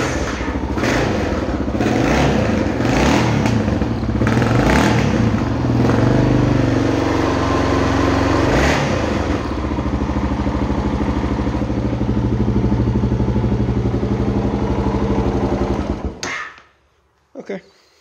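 A Yamaha XT 600 motorcycle engine with a charging fault runs on a borrowed ride-on mower battery. It thumps and clatters steadily up close and loud for about sixteen seconds, then cuts out, leaving a few faint knocks.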